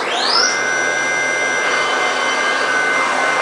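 A CNC machine cuts metal under adaptive feed rate control, its steady whirring, rising spindle tone and broadband cutting noise running loud and continuous throughout.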